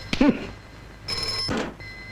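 A telephone rings in two bursts, a bright electronic trill separated by a short pause, with brief voice-like sounds at the start of each burst.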